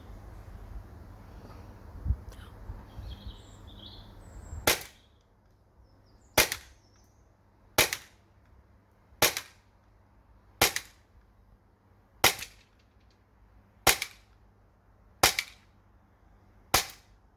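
A Sig P365 CO2 air pistol fires BBs in nine sharp, evenly spaced pops about a second and a half apart, each crisp and close against a quiet outdoor background.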